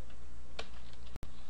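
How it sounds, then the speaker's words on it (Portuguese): A computer keyboard's Enter key gets one sharp tap, a single close click over faint room hum, with a short dropout in the sound right after. "Vamos dar enter"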